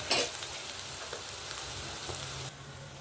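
Onions and green chilies for rava upma sautéing in a pan, a steady close sizzle with a sharp clatter of stirring at the start and a few light scrapes, easing slightly near the end.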